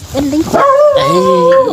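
A nearby dog gives a short burst of yips and whining, drawn-out cries, loud and close.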